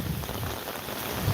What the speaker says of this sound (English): No wind at all. Just rain.